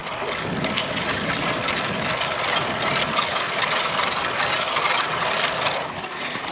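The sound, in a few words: bicycle making strange noises on a climb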